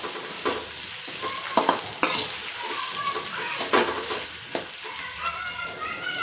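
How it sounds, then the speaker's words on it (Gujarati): Potatoes are stirred into a sizzling tempering of oil and mustard seeds in a pan, the steady frying hiss broken by repeated scraping strokes and clacks of the spoon against the metal. "બટેકા એડ કરી અને વઘારમાં સરસ રીતે મિક્સ કરી દેવું"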